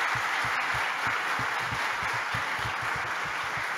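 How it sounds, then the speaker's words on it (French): Audience applause in a French talk-show studio, a steady field of clapping with a deep rhythmic thumping pulse beneath it, moderately loud and without talk. "On peut l'applaudir."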